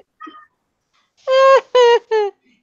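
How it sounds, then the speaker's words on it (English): A cat meows close by: one faint short call, then three loud, drawn-out meows in quick succession against near silence. "Keep meowing, kitty."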